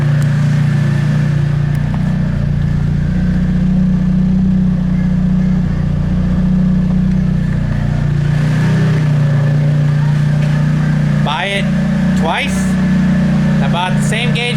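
A car engine with a failed aftermarket part idles steadily with a deep, constant rumble throughout, with a few brief rising whines near the end.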